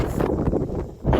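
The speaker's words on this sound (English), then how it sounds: "it's very windy" Strong gusty wind buffets the microphone with a loud, continuous low roar that swells and dips, heard alone outdoors on a windy June morning.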